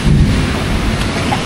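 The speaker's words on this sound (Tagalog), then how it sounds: "Bumabiyahe kami ni Edel, sobrang lakas ng ulan" Heavy rain pours down with thunder rumbling on a boat trip along the Pasig River, a dense, steady roar of close downpour with deep low rumbles throughout.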